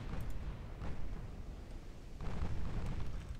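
Heavy naval gunfire from the stern batteries of British battlecruisers in the game Ultimate Admiral: Dreadnoughts, with 9-inch and 13-inch guns booming in two loud rumbling bursts over a steady low roar, no talk.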